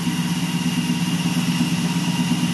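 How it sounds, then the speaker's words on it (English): A CNC gantry mill slots through aluminum with mist coolant spraying, giving a steady, continuous mechanical hum with a sustained tonal whine, loud and even throughout with no talk. "I do have the mist coolant running because I am uh, slotting"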